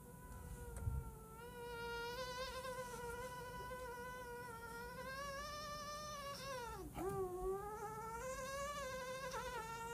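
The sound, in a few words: voice imitating an autumn mosquito buzzing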